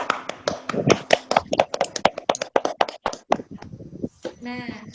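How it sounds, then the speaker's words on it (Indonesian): Schoolchildren applaud together in a classroom, a quick burst of sharp hand claps that overlaps with a teacher's voice and brief talk, close and moderately loud. "Tepuk tangan dulu, Nak"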